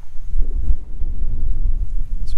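Strong wind buffets a microphone on a bright, gusty day at a bison ranch, a low rumbling roar that surges and dips in uneven gusts without any voices.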